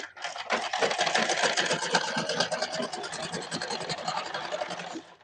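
A sewing machine stitches blouse fabric in a fast, steady chatter of needle strokes, close and fairly loud, with a brief lull at the start and faint handling noise.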